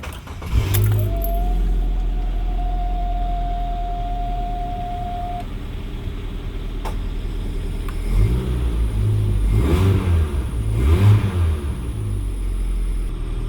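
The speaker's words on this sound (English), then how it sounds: "I'm going to try and start it for the first time since it went flat yesterday" A car starts for the first time after its flat battery was recharged with a smart charger: a short crank catches into a steady idle, a faint whine fades, and the engine rises in a few light revs near the end.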